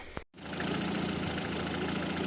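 An engine from a VAZ 1118 with a freshly rebuilt cylinder head runs steadily at idle, a smooth continuous hum close up after a brief click at the start, with no voices.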